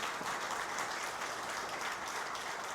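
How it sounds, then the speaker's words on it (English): A room full of attendees at a business networking Q&A evening claps for a guest speaker, a dense, continuous round of applause heard from a middle distance for nearly three seconds. "So would you please join me in a round of applause for Ravi?"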